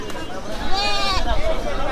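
Several goats bleat amid a crowd's murmur, their wavering cries overlapping close by in a busy Bangladeshi livestock market.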